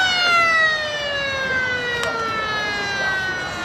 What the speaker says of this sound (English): As the siren goes for half time.